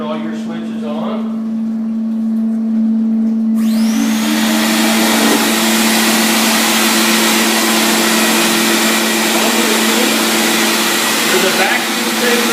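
A Namco high-pressure tile and grout cleaning machine switches on with a sudden loud roar and then runs at a steady, strong whine, preceded by a low hum.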